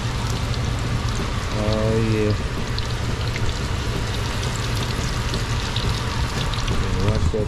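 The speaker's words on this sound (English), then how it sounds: "And now we're gonna watch this fry." Four catfish pieces fry in hot grease with a steady, rain-like crackle and hiss that holds even and close, while a voice briefly exclaims once.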